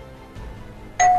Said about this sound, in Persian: همه چی عادی بود تا اینکه دوباره زنگ در خورده شد